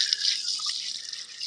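Water is poured by hand onto a plant in a garden, a steady bright splashing trickle that continues without pause, close and fairly loud, with no talk.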